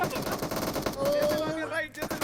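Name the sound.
gunfire in BGMI video game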